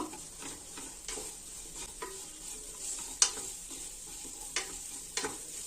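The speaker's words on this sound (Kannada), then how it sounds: "ಅದಕ್ಕೆ ಇದೆಲ್ಲ ಸ್ವಲ್ಪ ಎಣ್ಣೆಯಲ್ಲಿ ಫ್ರೈ ಮಾಡ್ಕೋಬೇಕು." Coriander leaves and seeds fry in oil with a quiet sizzle, punctuated by repeated clinking spoon strokes against the pan at irregular intervals.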